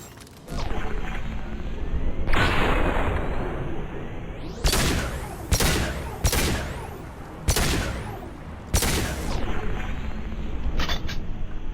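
Gunfire in the video game Mass Effect: several loud, sharp bursts of shots in quick succession over a steady mechanical background, with a short gap between volleys.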